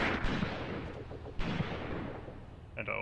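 Distant rifle and machine gun fire in the Graviteam Tactics wartime strategy game, scattered cracking shots and rumbling reports over a steady battlefield din.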